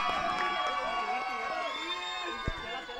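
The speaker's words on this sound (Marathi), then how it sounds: "जोरदार टाळ्या." A crowd cheers and shouts with bright, sustained whoops at a cricket league prize distribution, loud and close throughout, with a sharp thump near the end.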